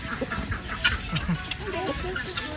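Chickens at a farm in Panglao, Bohol cluck in short, scattered calls while being fed, close and moderately loud over a murmur of background chatter.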